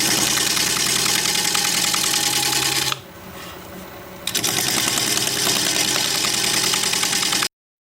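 A wood lathe turning a mulberry blank gives off a steady, close motor hum with a rough cutting texture, dipping quieter for about a second before resuming at full level and then cutting off.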